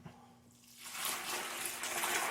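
Hot water poured onto paper in a bucket to soften it into mush: after a quiet start, a steady broadband rush of water pours in close by and continues to the end.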